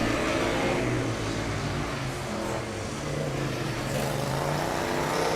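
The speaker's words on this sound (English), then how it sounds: "I hear the Lübeck car driving out of the driver change area" Formula Student race car from the Lübeck team pulling out of the driver change area during an endurance event, a steady engine drone with a slight dip in the middle, continuous and moderately loud throughout.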